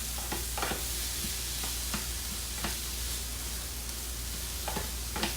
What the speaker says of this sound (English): So this is going to saute until the cauliflower almost becomes translucent.